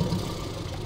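A tractor engine idles in the Arma II military game, a steady low mechanical hum that is close and constant for under a second, with no talk over it.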